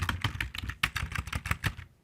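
Typing on a computer keyboard, a quick irregular run of close, crisp key clicks lasting about two seconds.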